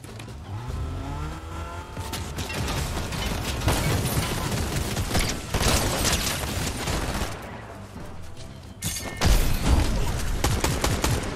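Rapid gunfire in the video game Fortnite, dense bursts of loud shots over a constant rumble of game noise, with a brief lull before a sharp blast near the end.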